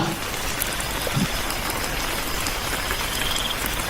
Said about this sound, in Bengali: হালকা হালকা বৃষ্টি